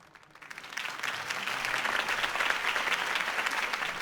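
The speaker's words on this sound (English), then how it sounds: "could have heard that applause" Crowd at Harvey Dent's campaign speech in a Batman video game bursting into applause, swelling from quiet to a sustained dense clapping that holds steady.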